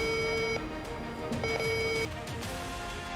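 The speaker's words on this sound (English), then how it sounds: "The VX10 picks it up immediately, giving a clear tone and precise numeric ID for gold" A Vitran VX10 metal detector sounds clear, steady electronic tones as it detects gold. The tones are close and distinct, shifting in pitch in short stepped segments with brief pauses between them.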